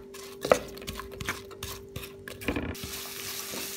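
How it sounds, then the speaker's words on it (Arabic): Onion fries in about five tablespoons of vegetable oil in a pot on a gas stove and is stirred, giving a soft sizzle with scraping and light clinks of the utensil against the pan. "كمان بحط البصلة، بقليها للبصلة شوي على الغاز"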